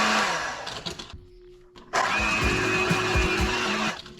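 Electric mixer whipping an eggnog mixture, a loud steady whir that cuts out briefly and resumes, running alone without talk.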